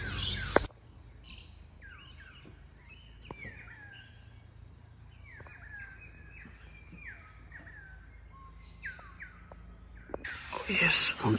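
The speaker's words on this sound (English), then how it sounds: "Oh yes, found some birds." Several birds chirp and call in a quiet outdoor setting, a series of short, faint-to-moderate tweets scattered through the stretch, with louder rustling or handling noise at the very start and end.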